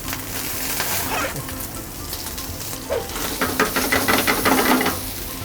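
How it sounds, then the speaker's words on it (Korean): Soft scraping and stirring of cream soup in a pot with a spatula over a steady low sizzle, with small irregular strokes growing a bit busier toward the end. "국자보다는 이 알뜰 두걱으로 밑에까지 저어주시는 게 훨씬 깔끔하게 할 수 있어요"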